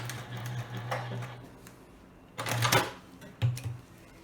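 Sewing machine back stitching fabric for a fabric storage box, short bursts of fast mechanical whirring and clatter separated by brief pauses, close and moderately loud.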